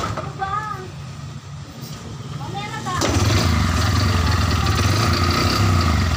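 A motorcycle engine with a faulty CDI ignition misfires, running rough and uneven with a hard knocking tone. It is faint at first under some chirping, then loud and steady from about three seconds on.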